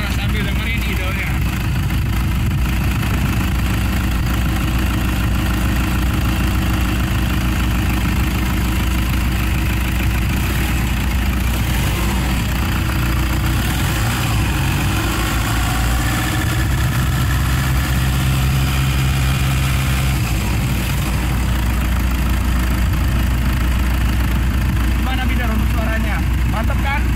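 A 2013 Toyota Fortuner G-Matic diesel engine idles with a steady low rumble and faint vibration throughout, while people talk over it.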